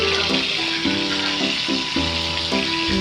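Chicken pieces sizzle and fry in oil in an old, worn pan that the meat sticks to, a steady bubbling crackle with a few faint tonal clinks over three seconds.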